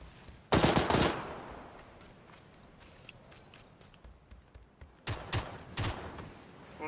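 Two sharp bursts of automatic gunfire in PUBG, one near the start and another near the end, loud and rapid against a quiet in-game background with faint movement between them.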